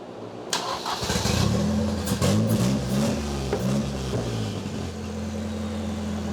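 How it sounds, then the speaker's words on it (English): A car engine with its cam sensor unplugged starts up and revs, its steady mid-pitched drone rising and wavering before it loses sync and dies out, loud and close with no talking. "so when you rev it up, it loses sync because the cam is not plugged in, and it shuts off"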